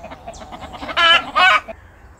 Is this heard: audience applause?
no